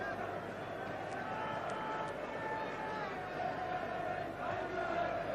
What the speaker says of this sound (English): And the crowd enjoying being back.